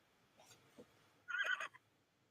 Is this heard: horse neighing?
yes